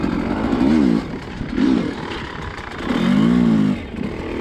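An enduro motorcycle engine rises and falls in three throttle blips between steadier idling. The revving comes close and moderately loud, with clatter and outdoor rumble underneath.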